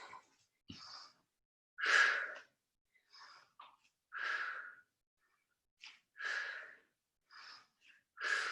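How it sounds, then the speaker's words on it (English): Sharp, forceful exhales during a full-body weight workout with presses, coming about once a second in short separate bursts, close and fairly loud with quiet gaps between them. "I want to hear those exhales."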